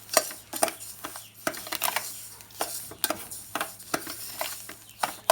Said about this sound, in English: start keeping up stirring it and getting it to give it a good mixture